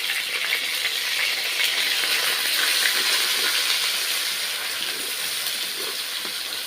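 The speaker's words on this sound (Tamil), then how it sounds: "நீ உரிச்ச வெங்காயம் தான் இப்போ வதங்கிட்டு இருக்கு" Onions sautéing in hot oil in a pan give a steady, dense sizzle that holds even and close throughout, with no voices.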